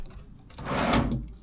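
A hotel room dresser drawer slides open with a swelling wooden scrape and rumble that peaks and fades, fairly close but soft, in a quiet budget hotel room in Las Vegas.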